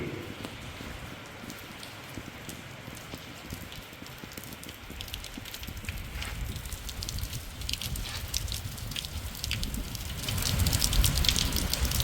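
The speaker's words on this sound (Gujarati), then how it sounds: "ફુવારા જેવો વરસાદ હો ભાઈ, કાંઈ ઘટે નહીં" Light rain falls steadily on a farm plot where cement and sand lie, a soft broadband patter that swells louder toward the end, with no voices.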